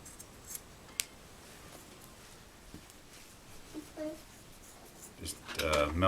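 Scissors trim the cut ends of paracord on a three-strand braided ridgeline, with a sharp close snip early on and a louder cluster of snipping and handling at the end.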